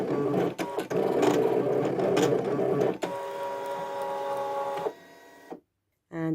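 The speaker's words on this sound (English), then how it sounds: "And that will run through our machine." A digital cutting machine slices through card with a steady whirring, mechanical hum and repeated motor passes, then stops abruptly into near silence.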